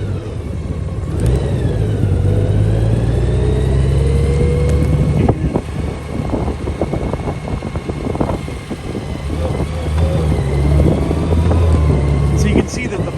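A 2021 Honda Gold Wing motorcycle engine hums and rises through its revs while riding slowly through a neighborhood, pitch climbing then dropping as gears shift automatically, with steady road and wind noise around it.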